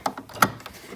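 A sewing machine makes a single stitch while sewing an appliqué: a quick cluster of sharp mechanical clicks and ticks from the needle and gears, close by and with no talking.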